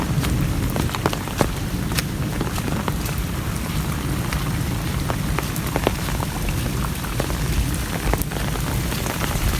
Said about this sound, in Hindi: बारिश भी आज बड़ी तूफानी बारिश लगी हुई है